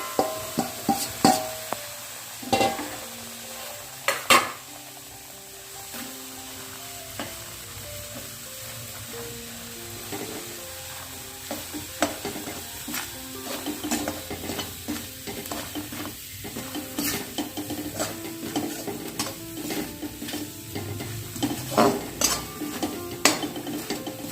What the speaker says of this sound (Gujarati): આ લોટને હવે આપણે ગોલ્ડન બ્રાઉન કલર થાય ત્યાં સુધી શેકવાનું છે